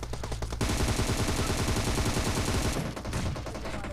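Rapid automatic gunfire in the PUBG video game, a dense burst of shots lasting a couple of seconds amid loud game noise, with short shots before and after.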